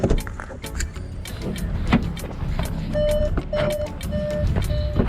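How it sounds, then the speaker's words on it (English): Inside the cabin of a 2020 Skoda Karoq petrol, warning chimes ring out as a run of evenly spaced electronic tones in the second half, over clicks and other cabin noises. "the bongs continue with almost every car nowadays that come along in 2020"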